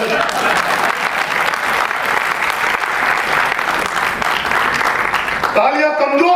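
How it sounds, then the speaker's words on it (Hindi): Sustained, dense applause from a large audience at an all-India comic poetry gathering (hasya kavi sammelan) in Ankleshwar, Gujarat, loud and steady before cutting off abruptly near the end, where a voice briefly sounds. "तालियां कमजोर है आपकी"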